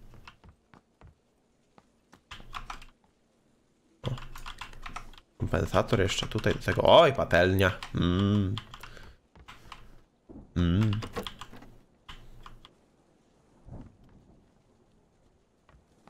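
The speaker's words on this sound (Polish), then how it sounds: "Przepraszam, że za moją klawiaturę, którą naprawdę będziecie słyszeć." Clicky computer keyboard typing during a PlayerUnknown's Battlegrounds session, heard in bursts of rapid keystrokes under frequent speech and game sounds, pausing and resuming throughout.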